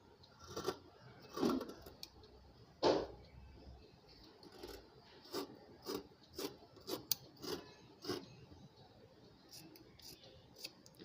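Scissors cut through blouse cloth at the shoulder, a string of soft, uneven snips and rasping slices at close range, some louder bursts among quieter ones.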